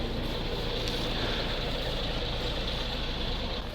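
A T-16 tractor fitted with a hydraulic manipulator idles nearby, a steady, loud, rumbling engine drone with a low throb and no talk.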